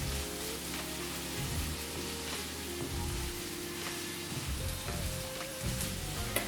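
Butter sizzles and fries steadily in a pan for an Ethiopian mitmita dish, a continuous crackling hiss at moderate volume with occasional stirring and no talk.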